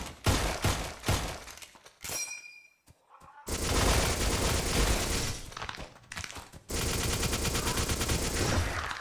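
Pistol gunfire in a video game rings out in rapid bursts of sharp, loud shots and cracks, with a short quiet gap between volleys and dense, sustained firing afterward.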